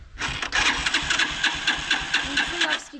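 A moped's small engine revs loudly and close, its throttle pulsing in quick repeated surges over a buzzing running note, with a voice heard briefly.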